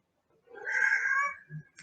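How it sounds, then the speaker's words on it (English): A single cat gives one drawn-out meow, clear and fairly close, followed by a faint short sound before it trails off. "She probably hears Mama Kitty in the background."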